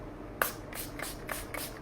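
Ollie Spray makeup primer misted onto the face in four or five short, soft hissing bursts at a steady rhythm, close and quiet, with no talking.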